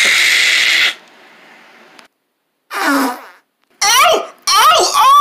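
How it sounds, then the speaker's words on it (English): A loud, raspy fart opens the clip, then silence, and then excited voices shout and react. "I did fart to keep y'all away from me."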